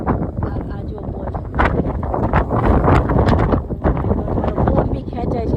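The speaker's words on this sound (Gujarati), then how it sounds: "કેટલી વિન્ડ છે આજે, તમને કદાચ અવાજ સંભળાતો હશે." Strong wind gusts into a phone microphone on a freezing, snowy winter day in Canada, producing loud, uneven rumbling buffeting throughout, with a person talking over it.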